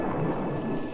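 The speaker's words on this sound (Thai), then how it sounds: "ฝนตกทำไงดีอ่ะ" Thunder rumbles through steady rain in a Thai film scene, a brief, dense low roll with the hiss of rainfall beneath it, at moderate volume and with no break.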